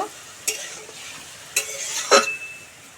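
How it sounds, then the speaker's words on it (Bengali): Grated potato stirred into boiling water in a pot, three brief scraping strokes of a utensil against the vessel over a soft bubbling hiss, close and moderately loud, with one faint metallic ring after the last stroke. "আলু দিয়ে নেড়ে ছেড়ে এক মিনিট মতন ফুটিয়ে নেব"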